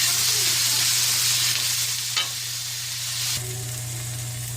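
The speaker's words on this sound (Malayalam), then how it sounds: "സവാളയിൽ കുറച്ച് ഉപ്പിട്ട് മൂപ്പിക്കാം." Onion and potato sizzle steadily in a hot pan with salt, a constant loud frying hiss broken by a few scrapes of stirring, close up and without any voices.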